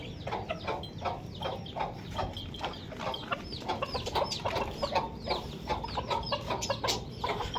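A hen and her chicks cluck and peep continuously on a farm, many overlapping close calls with a steady chattering rhythm and no talk.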